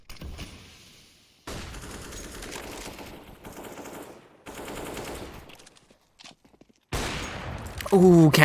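Gunfire from a competitive video game match comes in bursts of rapid shots with short silent gaps, loud and close, ending in a sharper louder burst. A caster's voice talks over parts of it.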